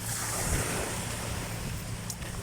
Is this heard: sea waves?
yes